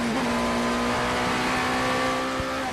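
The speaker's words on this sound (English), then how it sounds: "Listening to the number 38 car, and Anthony Davidson." The number 38 race car's engine drones during a WEC endurance race, the 8 Hours of Bahrain, a steady high-pitched hum under a constant broad roar with a brief tonal shift near the end.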